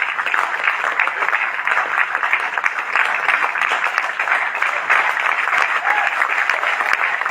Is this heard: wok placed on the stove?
no